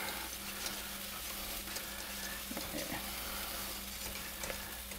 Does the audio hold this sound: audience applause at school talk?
no